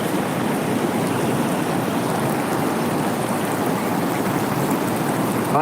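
Stream water flows strongly under a bridge at Sevveri creek near Tittakudi, a steady, broad rushing wash that holds unchanged and close throughout, with no voices.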